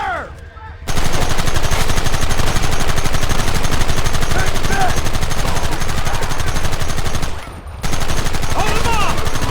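Sustained rapid gunfire from a Western shootout in Red Dead Redemption, dense machine-gun-like bursts and overlapping shots running almost continuously, loud and close, with one brief lull near the end.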